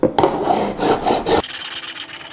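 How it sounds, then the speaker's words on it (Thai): A file rasps back and forth across the frets of a Yamaha Dynamic No.15 acoustic guitar during a refret, in several close, even strokes that end in a quieter scratchy tail. "เดี๋ยวเรามาตะไบกันต่อ"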